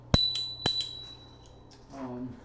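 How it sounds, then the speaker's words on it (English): A bicycle bell fitted on the new brake lever of a Hiboy KS4 electric scooter gives two sharp metallic dings, then a short voice is heard near the end. "So now we got our new brake with the bell."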